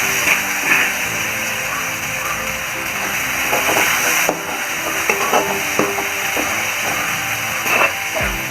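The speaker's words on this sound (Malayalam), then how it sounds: "നമുക്കിത് ചേർത്ത് ഇളക്കി കൂട്ടാം." Boiled Chinese potatoes (koorkka) are stirred in a frying pan, with a steady sizzle under intermittent scraping and knocking of a utensil against the pan.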